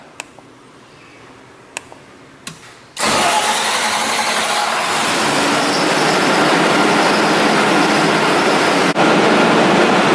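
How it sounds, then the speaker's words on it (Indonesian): A generator set started from its control module: a few faint clicks, then the engine fires up abruptly and settles into a steady, loud running roar that continues to the end. "sekarang kita coba hidupkan langsung dari modul gensetnya"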